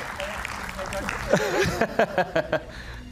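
A studio audience at a political talk show claps in a soft, steady patter, with a voice speaking over the applause as it continues.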